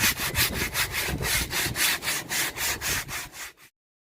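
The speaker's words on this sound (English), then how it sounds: "I'm just taking all the rough edges off so it's nice and smooth" Rough edges of freshly cut wood being smoothed for a homemade bench, a close, loud rasping back-and-forth scrub repeated in a steady rhythm of about a dozen strokes, then abrupt silence.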